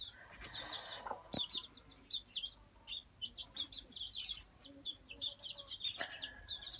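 Chickens cluck and chirp near at hand in a quiet setting, with short repeated calls scattered throughout and a couple of sharp knocks mixed in.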